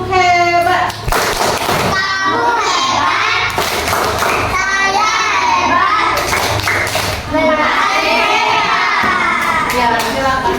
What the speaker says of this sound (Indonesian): kita kasih tepuk hebat buat kelompok belajar visual